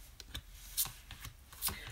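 Oracle cards shuffled by hand during an angel card reading, giving a few quick, crisp riffling bursts at close range with soft rustling between them and no voices.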